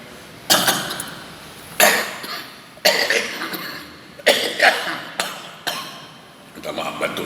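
A man giving a religious talk coughs in a series of sharp bursts, about five or six close together, with quiet pauses between them.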